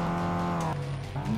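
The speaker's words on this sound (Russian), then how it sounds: "Занесло, блин, задним колесом одним" Tires squeal in a sustained skid as a car slides on one rear wheel in Project CARS, the engine droning loudly underneath before the screech breaks off and briefly resumes.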